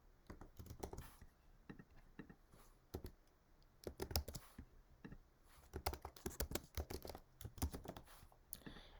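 Fingers type a first name on a computer keyboard, scattered quick clusters of crisp key clicks with brief pauses between them, close and fairly quiet.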